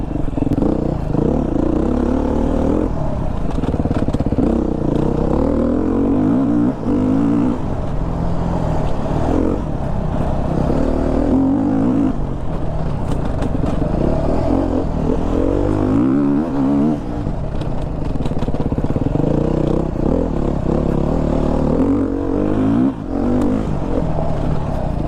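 2022 Beta enduro dirt bike being ridden on a wooded trail, a continuous loud engine roar rising and falling with throttle and gear changes, close and unbroken throughout with no talk.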